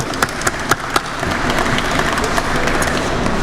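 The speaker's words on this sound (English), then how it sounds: "give them an applause" Convention audience at the World's Fair of Money opening ceremonies applauds the volunteers: a few sharp individual claps at first, then quickly swelling into sustained, loud crowd applause.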